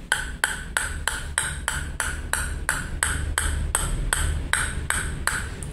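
A table tennis ball dropped repeatedly onto a Nexy Qabod five-ply blade with two inner carbon layers, before rubber is glued on, giving a steady series of about a dozen crisp, hard pings close by.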